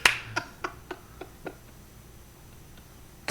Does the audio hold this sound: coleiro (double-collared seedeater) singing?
no